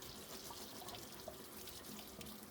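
Tap water running into a sink to rinse a jug while preparing for soapmaking, a steady, faint, continuous hiss of flowing water with no talking.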